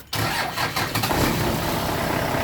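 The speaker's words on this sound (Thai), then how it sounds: "เดี๋ยวสตาร์ท เครื่องก่อนเนาะ" A vehicle engine cranks and catches almost instantly, then settles into a loud, steady idle rumble that continues to the end, with no talking.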